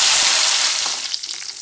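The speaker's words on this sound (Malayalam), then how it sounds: "അതിൽ നമുക്ക് അണ്ടിപ്പരിപ്പും മുന്തിരിയും വറുത്തെടുക്കാം." Cashews and raisins fry in two spoons of hot ghee in a pan, starting as a loud, close sizzle that quickly fades into softer scattered crackles.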